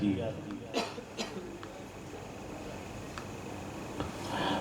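A few short dry coughs, spaced apart, close to the mic amid a murmur of room noise.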